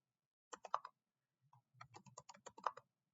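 Someone types a password for sudo su on a computer keyboard, producing two quiet bursts of quick key clicks separated by a brief pause, with no voices.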